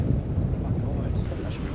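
Strong wind buffets the microphone on a fishing boat heading out to an offshore fish aggregating device, a loud, continuous low roar for the whole moment with no voices.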